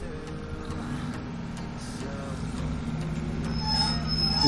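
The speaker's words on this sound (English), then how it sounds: "They do sound nice, them wheels, don't they?" Train wheels squeal on the rails in the Train Sim World 2022 simulator during a snowy Derby to Matlock run, with high screeches over a steady rolling rumble that grows louder toward the end.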